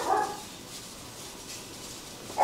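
Rottweiler puppies at a dog kennel yelp in two short, bright barks, one at the start and one at the end, with quiet room noise between them.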